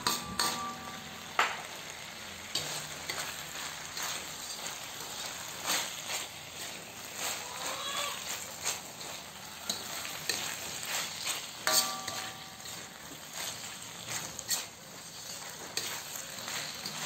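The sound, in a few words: stirring snap peas and pork in a pan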